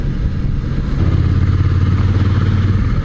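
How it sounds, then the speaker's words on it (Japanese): Several motorcycles idle and rumble together on a touring trip in Japan, a loud, steady low engine drone with faint clatter and no talking. "バイクがいっぱいいる。"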